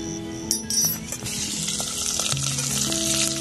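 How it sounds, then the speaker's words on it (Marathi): Pounded onion and coconut masala frying in oil in a pot over a wood-fired clay stove, a steady soft sizzle with occasional clinks of a utensil against the pot, and background tones alongside. "आता तो फ्राय करायचा आपल्या तेलामध्ये"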